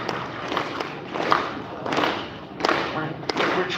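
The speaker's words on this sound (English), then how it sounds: "Slow clap." Audience at a closing ceremony clapping slowly in unison, a few loud hand claps per second spread across the room with crowd murmur between beats.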